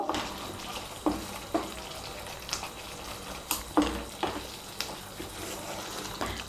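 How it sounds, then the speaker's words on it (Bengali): Shahi garam masala powder is stirred into a Katla fish curry frying in a pan. A soft low sizzle runs under repeated scraping, splashing spoon strokes at uneven intervals, quiet and close. "গরম মশলার গুঁড়োটাকে মিশিয়ে নেব।"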